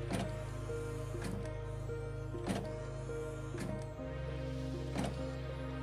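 An HP Officejet 7440 inkjet printer with a printhead problem initializes, its motor humming steadily with a repeating mechanical clunk about every second and a shift in pitch midway, no voices.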